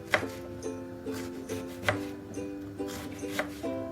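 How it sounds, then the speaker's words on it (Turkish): Red cabbage is sliced finely with a knife on a board in an even, repeated rhythm of about eight crisp cuts. It is close and quiet, with no talk. "ve ince ince doğruyorum"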